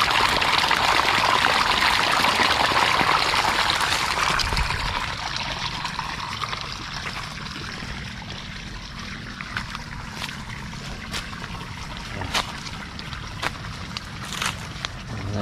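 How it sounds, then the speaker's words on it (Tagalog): Water rushing and gurgling steadily through an irrigation canal in a calamansi orchard, loud at first then settling into a softer flow with scattered splashes and clicks. "agusan na tubig."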